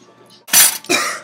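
Two sharp, breathy bursts in quick succession, like a sneeze, loud and close against a quiet background.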